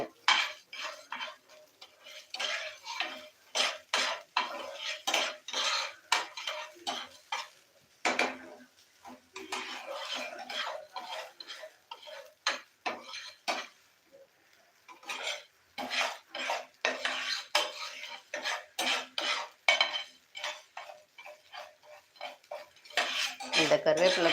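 Curry leaf powder with salt roasting in a pan, a long run of quick scraping and clinking strokes from a stirring utensil, pausing briefly now and then, with some talk underneath.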